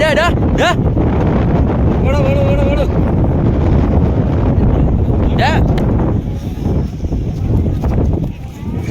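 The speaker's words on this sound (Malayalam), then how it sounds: "കാറ്റാ കാറ്റാണ് കാറ്റ് അത്രയും കാറ്റാണല്ലേ" Strong wind roars and buffets the microphone continuously on a hilltop at Mattumala, Kollengode, Palakkad, with a few brief voices cutting through the rumble.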